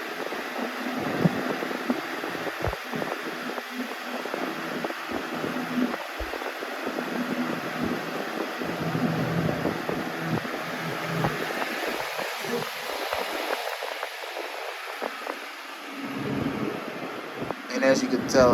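A 2003-04 Lasko Weather-Shield box fan, model 3755, runs on high with a steady, whooshing airflow hiss, while someone talks over it throughout.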